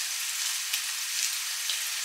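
Knife cutting salad leaves into small pieces, a steady close, crisp high rustling hiss throughout with slight soft accents, no talking.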